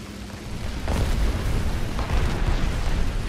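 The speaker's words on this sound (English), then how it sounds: "there's a fair bit of incoming fire here" Incoming tank shell explosions around a Panther D in a War Thunder realistic battle, heavy rumbling booms layered one after another in a continuous loud low roar.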